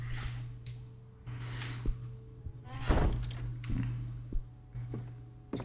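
A door in the horror video game Song of Horror gives several dull thunks and knocks over a low steady hum. The loudest bump lands near the middle, with quieter clicks and thuds before and after it.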